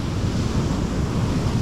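Sea surf washing onto a beach on an October afternoon after a storm, a steady low rumble of breaking waves with wind buffeting the microphone, continuous and close with no voices.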